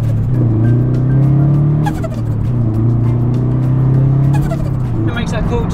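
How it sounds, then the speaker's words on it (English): A lowered turbocharged car's engine revs under higher RPM and load, giving a loud, close, steady drone with a rising and falling pitch and some faint flutter-like chatter over it. "It makes that cool turbo flutter,"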